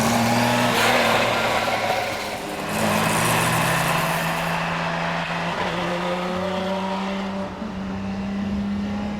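A Lamborghini Miura's engine drones loudly and steadily while driving, with a sustained low harmonic roar that shifts pitch slightly through a gear or throttle change, close and continuous with no talk.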